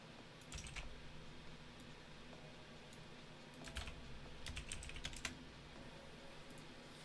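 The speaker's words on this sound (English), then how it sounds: "Sorry if you see me screenshot the screen or typing." Light clicks from a computer keyboard come in short bursts of typing separated by pauses, quiet and close over a steady background hum.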